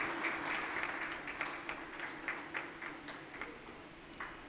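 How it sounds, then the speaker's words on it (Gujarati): Moderate audience applause honouring donor trustees at a felicitation event, a sustained crowd clapping texture heard at a slight distance and tapering off near the end. "એકવાર જોરદાર તાળીઓથી આપણા આ દાતા ટ્રસ્ટીને વધાવીએ."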